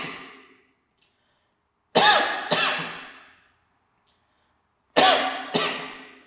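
Lucas, a man, coughs hard and close in short paired bursts, each one trailing off into silence before the next pair follows.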